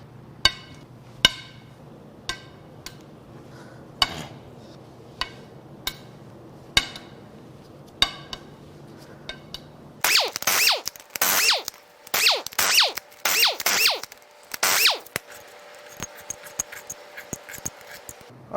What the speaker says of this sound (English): now it's time to crack the head bolts loose so we can pull the cylinder head